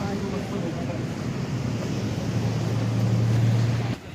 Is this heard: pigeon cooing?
no